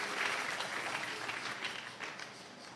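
A church congregation claps loudly at a Pentecost Sunday service, a dense, steady wash of many hands that holds for the whole moment, close and full.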